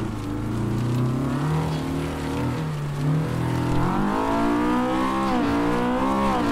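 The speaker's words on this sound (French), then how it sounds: "Il est bien rageur le moteur" An Axfor ProPulsion S2 Junior racing car with a Honda K20 engine, in the game Assetto Corsa, revs hard and continuously, its pitch climbing and dropping through gear changes, loud and close with no voices.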